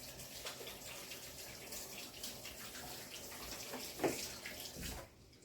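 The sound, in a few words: washing hands under a running tap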